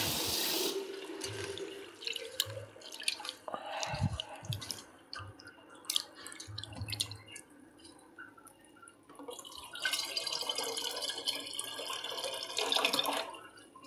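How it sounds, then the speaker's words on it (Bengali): Water from rinsing soaked rice and lentils, pouring and splashing in a sink with scattered drips and squishy handling sounds, fairly close and steady, no voices. "চাল ধোয়া আর ডাল ধোয়া জলটা"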